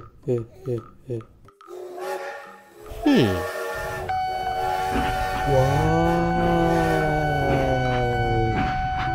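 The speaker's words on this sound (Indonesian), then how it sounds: "Kereta api." Toy or cartoon train sound with a sustained whistle-like harmonic tone and rumbling, loud and steady for several seconds after a voice, with a small child's chatter before it.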